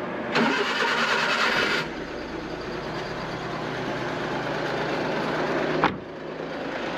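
A truck engine cranks and fires, then settles into a steady, loud idle that runs on close by, with a brief knock near the end and no talk.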